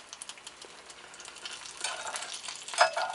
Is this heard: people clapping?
no